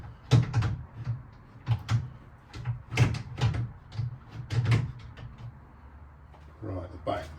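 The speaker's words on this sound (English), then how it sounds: "How does the drawer go in? I guess I could put it in there like that." A wooden drawer knocks and slides into place in a boat galley, with several clunks and taps of wood on wood spaced across the moment amid handling noise.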